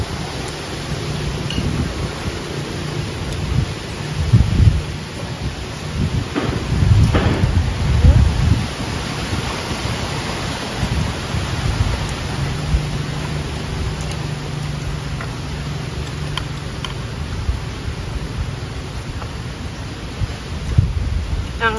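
Steady rain hisses throughout with low rumbling swells of thunder, loudest around the middle, a continuous stormy wash outdoors; faint voices may sit beneath the noise.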